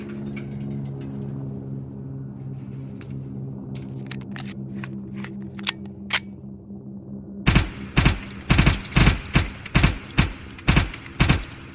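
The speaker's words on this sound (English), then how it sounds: "I need to reload." Reloading and gunfire in the military shooter game Arma 3: crisp mechanical clicks and clatter of a magazine swap, then a rapid run of about nine loud, evenly spaced gunshots over a low engine-like hum.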